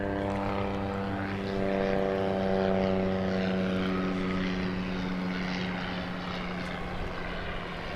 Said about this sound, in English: We've got a small plane coming in.